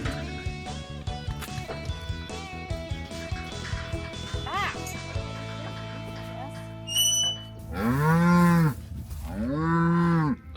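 Cattle let out two long, loud moos near the end, following a stretch of mixed farm background noise.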